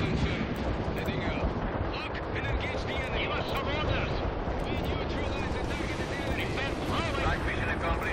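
Heavy artillery fire in the war game World in Conflict: a dense, continuous wash of blasts and rumbling explosions throughout, loud and close, with a voice talking over the battle.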